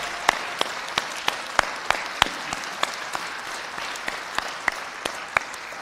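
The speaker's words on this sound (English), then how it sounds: "let's give them a heartfelt applause" Applause from a dinner audience at a 2024 recognition dinner, a moderate crowd clapping steadily with distinct individual claps, heard alone without talk.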